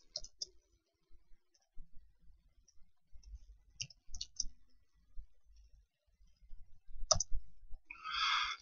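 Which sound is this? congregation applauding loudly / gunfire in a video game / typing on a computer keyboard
typing on a computer keyboard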